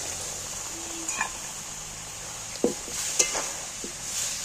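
Boiled lentils tipped into a hot frying pan, giving a soft background sizzle with a few faint stirring and spatula knocks scattered through.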